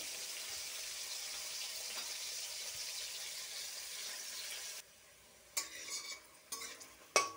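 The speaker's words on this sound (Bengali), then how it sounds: "তেল গরম হয়ে গেছে, ছেড়ে দিয়েছি। এরকমভাবে করলা ভাজলে আমার তো খুবই ভালো লাগে খেতে।" Bitter gourd sizzles loudly in hot oil for several seconds, then the hiss drops away and a few sharp scrapes and clanks of stirring follow.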